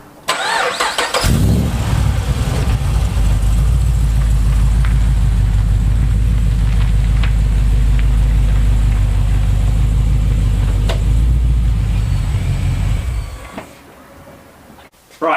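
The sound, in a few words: car being driven into the shade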